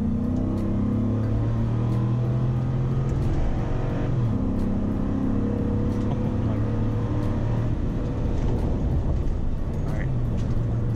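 A 2014 Ford Raptor pickup truck accelerates at full throttle, its engine droning loud and steady, pitch rising in stretches across the whole stretch, with some talk over it.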